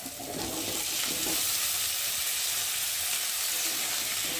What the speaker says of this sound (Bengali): আলুটা বেশ লাল লাল করে ভেজে নিয়েছি